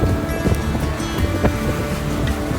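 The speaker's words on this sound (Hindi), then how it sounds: "यमुना नदी जो है वो इस घाटी में बहते हुए आगे बढ़ती है" The Yamuna river runs brimming with water through a mountain valley in Uttarakhand, a continuous broad rush of flowing water heard close and steady, with faint irregular splashes.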